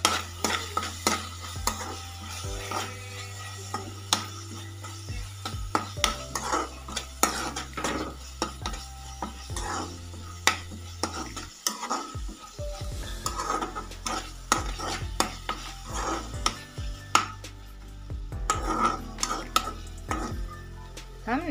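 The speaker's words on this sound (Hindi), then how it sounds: "और थोड़ा फ्राई करना है इसीलिए हम इसमें ये मिर्च और ये हल्दी डाल देते हैं ताकि ये भी इसमें पक जाए" Egg masala fries in a pan with chili and turmeric, making a steady sizzle under repeated close scrapes and clinks of a spoon stirring against the metal.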